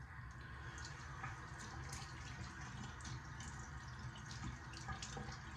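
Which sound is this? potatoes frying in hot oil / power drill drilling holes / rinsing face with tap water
rinsing face with tap water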